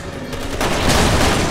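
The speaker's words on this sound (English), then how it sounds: "The shotgun is so useful in this." In Resident Evil 6 a shotgun blasts amid loud, continuous game gunfire and chaotic noise, with the shots running together into a dense, sustained barrage.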